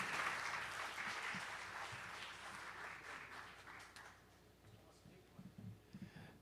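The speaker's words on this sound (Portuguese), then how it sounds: "Uma salva de palmas, pessoal." An audience at a talk on federalism applauds after a speech, a broad wash of clapping that is strongest at the start and thins out over several seconds, with a few scattered late claps and voices murmuring underneath.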